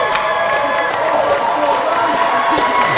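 Wedding guests clapping and cheering right after the couple is pronounced husband and wife, a continuous crowd roar of applause and voices with some talking mixed in.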